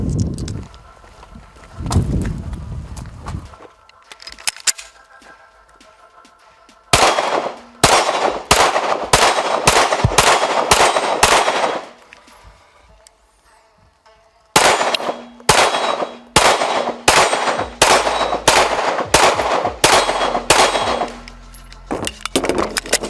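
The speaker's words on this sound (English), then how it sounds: "We're gonna shoot a little bit." Springfield Echelon pistol fired in two long strings of rapid, sharp shots, close and loud, with bright metallic clangs of ejected brass casings hitting around between reports and quiet gaps before and between strings.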